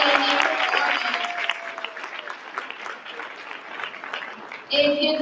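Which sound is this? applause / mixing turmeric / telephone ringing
applause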